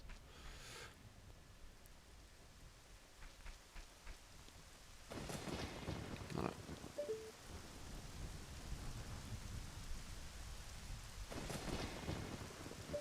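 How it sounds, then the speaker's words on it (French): Rain and thunder from the Zelda Ocarina of Time video game: a steady rain hiss swells with rolling thunder claps, loudest midway and again near the end, and a voice briefly says one word. "Là, il va se mettre à pleuvoir."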